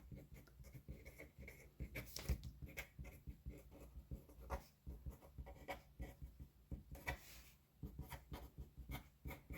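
Soft pen scratching as a message is written inside a handmade quilted Valentine card, close and quiet, continuous scribbling strokes with brief pauses between words and no voices.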